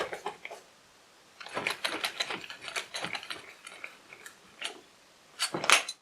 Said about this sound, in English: I will reassemble the plywood piece with the hinge.